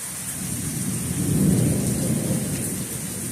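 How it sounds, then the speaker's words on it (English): A loud, close thunderclap rolls and swells over steady heavy rain during a massive thunderstorm, peaking midway before easing back into the constant downpour. "thunder is so loud."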